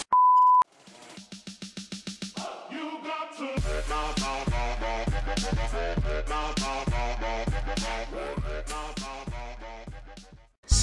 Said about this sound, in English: I'm actually trying to tone down the beeping sounds